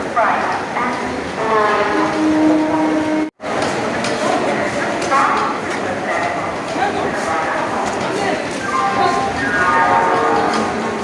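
A train stands at the Belur railway station platform amid a busy, crowded din of voices, with a dog barking nearby and a continuous loud rumble of rail noise.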